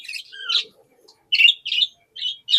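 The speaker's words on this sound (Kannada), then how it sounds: "ಒಂದಲ್ಲ ಎರಡಲ್ಲ ಎಷ್ಟಂದ್ರೆ ಎಷ್ಟಿದೆ ನೋಡಿ ಲವ್ ಬರ್ಡ್ಸ್ಗಳು" Caged lovebirds give a series of sharp, high chirps and short squawky calls in quick bursts with brief pauses, close and clear, with no voices.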